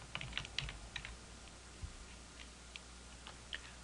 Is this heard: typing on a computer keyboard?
yes